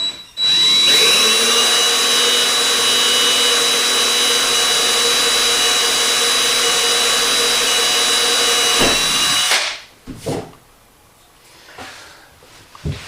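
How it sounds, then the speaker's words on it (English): A power drill bores a pilot hole through a fiberglass tub, running at a loud, steady high whine for about nine seconds before stopping abruptly, followed by quieter handling clicks and taps. "I'll take my drill bit, complete the pilot hole through,"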